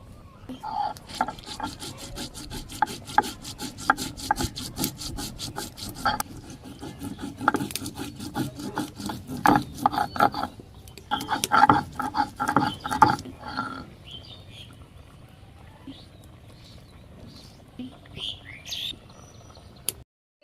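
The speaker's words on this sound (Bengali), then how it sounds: "জিরা বেটে নিলাম" Cumin is ground by hand on a grinding stone in a Bangladeshi village kitchen, giving a continuous rhythmic scraping and rubbing with brisk back-and-forth strokes, while birds chirp faintly nearby.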